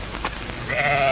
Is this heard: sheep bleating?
yes